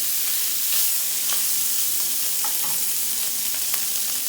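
Bacon fries hard in its own rendered fat, which is meant for cooking turnip and mustard greens. A loud, dense, continuous sizzle and crackle fills the whole stretch, close and unbroken.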